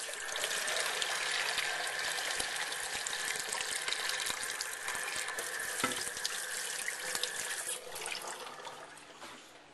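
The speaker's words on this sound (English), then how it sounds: "So you're going to fill it with water." Tap water pours steadily into a large baking container for a choco flan's water bath, a close, continuous gush with a slight splash near the end.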